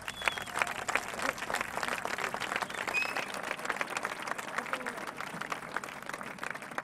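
Applause from a crowd at an independence festival in Reus welcoming Antonio Baños to speak, a continuous patter of clapping with some voices mixed in throughout.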